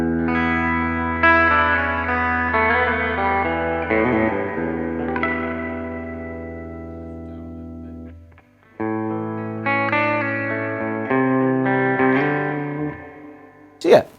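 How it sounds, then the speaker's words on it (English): An electric guitar plays sustained chords through a Fender Super Champ XD amp with reverb, with long ringing decays. The chords stop briefly, then resume with a sharp accent at the end. "the larger sound of reverb to me is my favourite"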